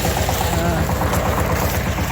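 Shifeng SF 160 mini tractor engine running during spring ploughing, a steady low rhythmic chug that persists throughout, with people talking over it.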